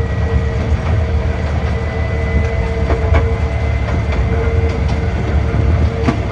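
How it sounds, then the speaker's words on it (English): A Ruislip Lido Railway train rumbles loudly as it slows into the station, with a steady low engine drone and periodic clicks of wheels over rail joints, close and continuous. "Just letting the train slow down itself now."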